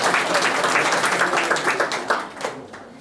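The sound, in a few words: audience applause for a birthday greeting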